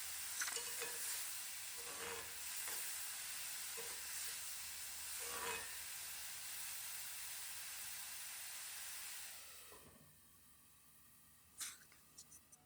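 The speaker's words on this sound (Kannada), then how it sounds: "ಸೊ ಇವಾಗ ಟೊಮೆಟೊ ಹಾಕೊಂಡು ಈ ಥರ ಕ್ಲೀನಾಗಿ ಫ್ರೈ ಮಾಡ್ಕೋಬೇಕು ನೋಡಿ" Tomatoes and onions fry in a pan for a methi fenugreek curry, with a steady close sizzle and periodic stirring scrapes. The sizzle quiets toward the end, and a few light clinks follow.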